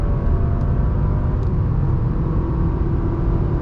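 A 2023 Honda Accord Sport accelerating at full throttle in eco mode, a loud steady engine drone and road rumble heard from inside the cabin, constant and unbroken.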